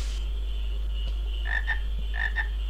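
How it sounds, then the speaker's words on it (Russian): Croaking frog in Final Fantasy IX, two short paired croak bursts midway and near the end over a steady low game hum, fairly close and clear. "Ага, лягушка."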